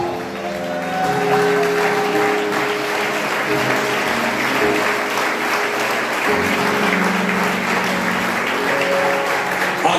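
A church congregation claps and cheers to acclaim Jesus, sustained loud applause filling the room throughout, with faint singing or tones woven underneath.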